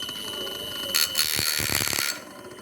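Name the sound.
connected electric buzzer sounding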